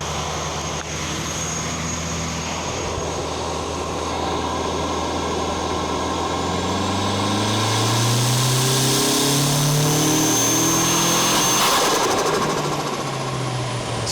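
A car with a 4G63 engine on a boost run after wastegate adjustments, building steady broadband engine and intake roar that swells louder midway, with rising whine tones before easing as it hits boost cut; no talk.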